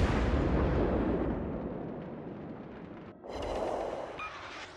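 Heavy naval shells from enemy battleships slam into the player's warship in World of Warships Legends, a sustained rumbling barrage that dips briefly and then swells again with a second booming impact.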